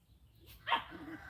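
Puppies on a homestead let out one sharp, short bark partway through, fairly faint and set against a quiet outdoor background.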